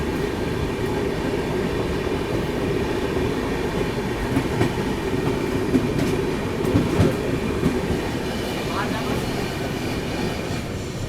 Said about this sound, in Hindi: अभी बगल से ये क्रॉस हो रही है लखनऊ नई दिल्ली गोमती एक्सप्रेस